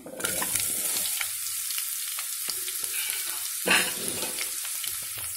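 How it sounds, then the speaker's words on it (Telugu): Bottle gourd pieces go into hot oil with a spice tempering, setting off a loud, continuous close-up sizzle with crackling spatters and a brief swell of stirring noise midway. "ఇప్పుడు మనం పక్కన పెట్టుకున్న ఆనపకాయ ముక్కల్ని వేసుకుందాం"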